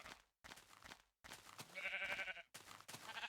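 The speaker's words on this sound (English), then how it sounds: "Might as well kill these sheep and get their" Sheep in the Minecraft video game give a single wavering bleat midway, set among short bursts of other game sounds, with no talking.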